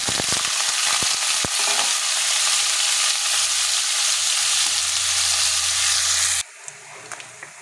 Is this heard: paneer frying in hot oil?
yes